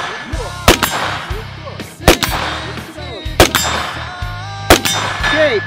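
Sharp gunshots at an outdoor range in Orlando, each followed by the ringing metallic clang of a bullet striking a steel target; four evenly spaced impacts about a second and a half apart, loud and close.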